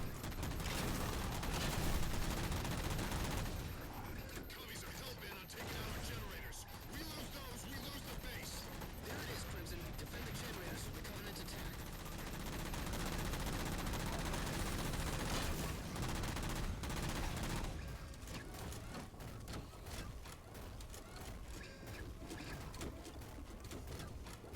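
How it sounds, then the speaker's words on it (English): Dense, continuous gunfire from a Halo Spartan Ops battle on Legendary difficulty. Rapid bursts and explosions run loud and nearly unbroken for the whole stretch, with no voices. "Stop shooting me."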